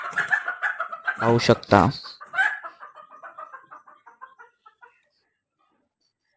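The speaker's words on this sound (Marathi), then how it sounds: "त्यासाठी पकडतो आता मी कोंबडी" A hen being caught by hand lets out loud, agitated squawks and clucks up close, which trail off into a series of softer clucks before stopping. A voice speaks briefly at the start.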